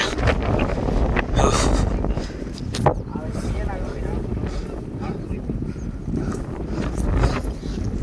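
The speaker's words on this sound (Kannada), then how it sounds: "ಗಾಳಿ ಗಾಳಿ." Strong wind buffets the microphone on a rocky Karnataka hilltop near a hidden Hanuman temple, a loud roaring rumble with gusts that swell and fade while people talk throughout.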